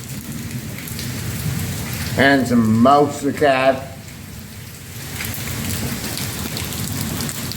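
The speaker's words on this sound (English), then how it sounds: "Listen to the beautiful rain" Steady hiss of heavy rain falling during a thunderstorm in Mazatlan, Mexico, close and constant throughout, with someone speaking briefly over it partway through.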